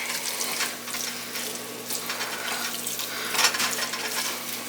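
Water splashes and streams into a pot nearby, a hissing pour with a brief louder splash near the end, no talking.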